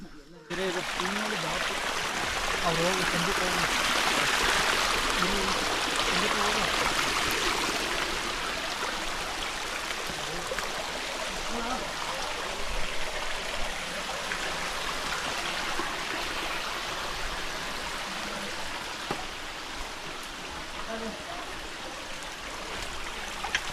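Rainwater stream running down a hillside at Hutridurga, a steady broadband rush of flowing water that continues for the whole stretch, fairly close and even, with no voices over it.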